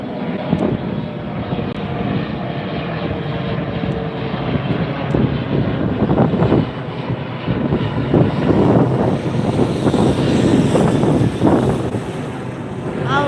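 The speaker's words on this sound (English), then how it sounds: "This is headed to Sacramento. It's an E-Jet, and it's 4928 is the flight number." An Embraer E-Jet airliner departs LAX bound for Sacramento, its engine roar heard from a nearby beach as a broad, steady rumble that slowly builds louder over about thirteen seconds, with wind buffeting the microphone.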